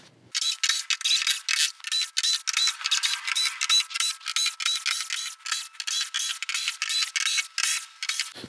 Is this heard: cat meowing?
no